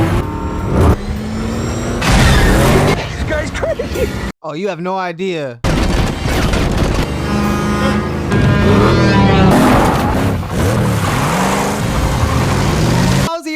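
Batmobile engine from The Batman (2022) roars and revs loudly amid crashes and booming impacts in a chase, with a short quiet gap midway; people talk over the action.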